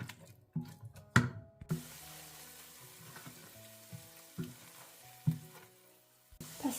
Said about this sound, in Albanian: Vazhdojmë e fërgojmë qepën për 3-4 minuta derisa të zbutet pak.